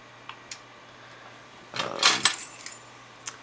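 A big ring of keys jangles close up, a few faint clinks at first, then a loud burst of metallic rattling and clinking lasting about a second before fading to a last tap.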